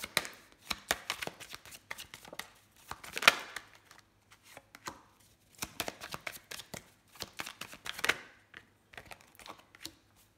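Tarot cards being shuffled and handled in close, crisp bursts of riffling and snapping with short pauses between, quiet room and no talking.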